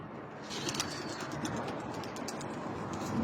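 Pigeons, including young racing or fancy birds, coo softly in a loft in Najaf, low murmuring calls over a rustling background with occasional faint chirps and light tapping.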